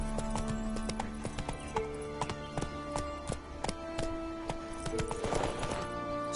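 A horse galloping in The Witcher video game, hooves clip-clopping in a rapid, steady rhythm at moderate distance, with tack jingling and a whinny near the end; no voices over the hoofbeats.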